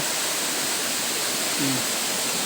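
Waterfall and rushing current at a nature park in Kiloro, a steady broadband roar of falling water filling the whole clip with no talk.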